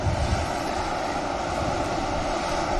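EasyJet airliner departing Manchester Airport for Lisbon, a dense, steady jet roar filling the short span at constant loudness, no speech.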